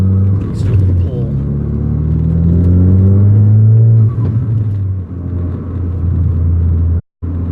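A 2017 Ford Focus RS pulls hard, its engine roaring loudly up through the gears in a rising, sustained drone with shifts between pulls, heard close from inside the cabin before a sudden brief dropout near the end.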